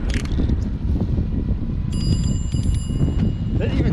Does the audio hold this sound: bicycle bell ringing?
yes